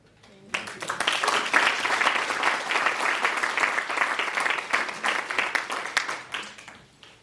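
An audience at a presentation gives a round of applause, clapping that starts abruptly, stays lively with uneven peaks, then fades toward the end.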